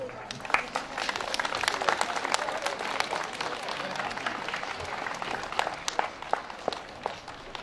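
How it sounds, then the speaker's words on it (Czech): An audience at a town celebration of the republic's centenary applauds as an honoured citizen steps onto the stage, sustained clapping of many hands at moderate distance, with some voices and crisp individual claps standing out. "Myslím si, že si zaslouží velký potlesk."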